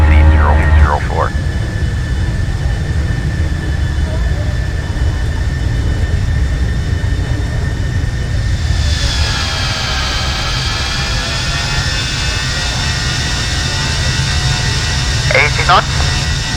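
PMDG 737 jet engines in a flight simulator game spool up on the takeoff roll, a loud, steady rumbling whine with rising tonal whistles near the middle, mixed with talk and radio chatter.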